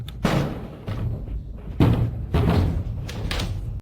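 A door is opened with a few heavy thumps and knocks spaced across a few seconds, close and fairly loud against a low background.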